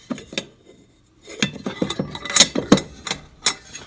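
A small old metal cauldron pot is handled, giving a series of sharp clanks and scrapes with irregular metallic knocks and brief pauses, close and fairly loud.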